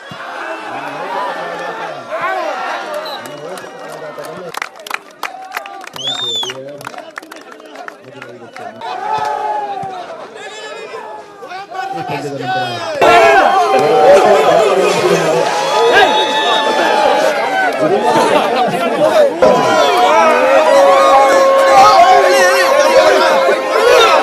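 A lively crowd at a team sporting match chatters and shouts, with overlapping voices and scattered cheers that swell into a louder, denser roar partway through and stay loud to the end.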